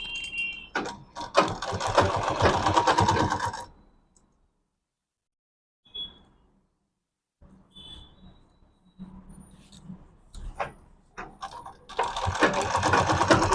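A sewing machine runs in two loud bursts while stitching a medium-sized bag, with a quiet stretch between them broken by a few small clicks and handling sounds.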